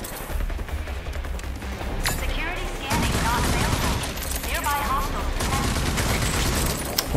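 Rapid bursts of gunfire blast at cargo crates in the video game Rage 2, several loud volleys of shots close by, one after another, with crashing impacts and someone talking over the action.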